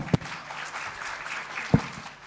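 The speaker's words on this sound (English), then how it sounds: "Please give Dr. Batra a bigger round of applause, everybody." Audience applause at an awards ceremony, a steady wash of clapping with two sharp close claps or thumps standing out, no voices.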